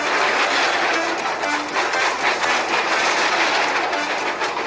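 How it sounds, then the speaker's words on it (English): Toy engines Thomas and Percy race along a railway on the island of Sodor, a steady, loud rolling rumble of train wheels with clickety-clack rhythm running throughout. "Best friends Thomas and Percy were racing around Sir Topham Hatt's railway"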